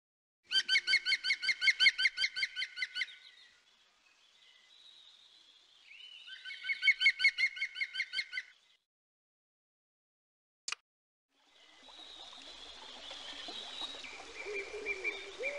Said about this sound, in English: Green woodpecker.